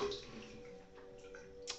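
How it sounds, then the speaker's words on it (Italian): Hot water trickles faintly into a bowl holding shaving soap for a quiet, brief pour with a small tap at the end. "mi metto un pochetto di acqua calda"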